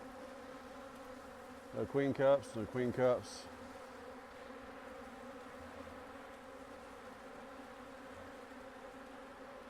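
Riled-up honey bees hum steadily around a hive during queen introduction, a low continuous drone throughout, with a person speaking briefly over it early on.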